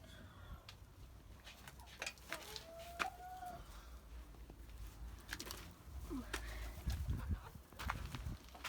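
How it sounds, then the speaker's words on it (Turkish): Hens cluck and squawk intermittently nearby over a quiet outdoor background, with scattered short bird calls and no talking. "Şu tavuklarım."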